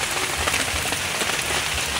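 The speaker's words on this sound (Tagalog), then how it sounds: "Maulan." Rain falls on a camping tent as a dense, steady hiss of drops drumming on the fabric, close and continuous throughout with no voices.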